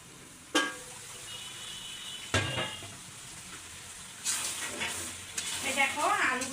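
Potatoes and beef lung sautéing in a pan, a soft sizzle with a few scraping stirs early on, then louder bursts of frying and stirring toward the end.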